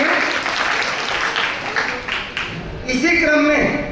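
Audience applause welcoming devotees at a religious gathering, a burst of crowd clapping that fades as a voice begins speaking over it near the end.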